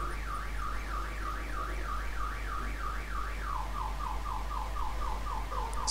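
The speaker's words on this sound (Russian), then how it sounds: "сигнализация еще на дороге" A car alarm in the video game Detroit: Become Human wails continuously, rising and falling in a fast repeating sweep, heard steadily at moderate distance over a low constant hum with no speech.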